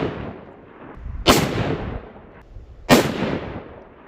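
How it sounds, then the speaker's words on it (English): Two sharp, loud rifle shots about a second and a half apart from a long-range hunting rifle fired at targets, each a crisp crack followed by a decaying outdoor echo, with no talk. "3 more shots. I'm gonna shoot the middle target, bottom right diamond."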